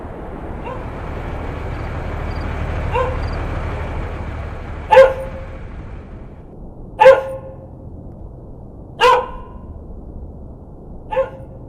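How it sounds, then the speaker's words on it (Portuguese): Dogs bark in a video game village, four sharp barks spaced a couple of seconds apart over a steady low background hum, with no voices. "Às vezes até cachorros rosnando e latindo."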